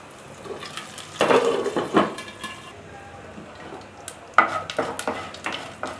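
Curry leaves are dropped into a pan with chana dal, giving a short burst of sizzling frying with utensil clatter and stirring, fading and then returning with more clinks.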